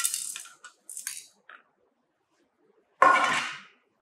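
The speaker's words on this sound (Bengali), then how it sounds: "4 নম্বর সিপ থেকে প্রাপ্ত স্যাম্পলগুলো আমি একটা লিডের মধ্যে ঢেলে আলাদা করে রাখলাম।" Sand from a No. 4 sieve is poured into a lid in short gritty bursts. Three brief rattles come close together at the start, then a quiet pause, then one longer hissing pour.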